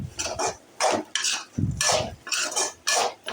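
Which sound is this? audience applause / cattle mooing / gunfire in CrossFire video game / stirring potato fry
stirring potato fry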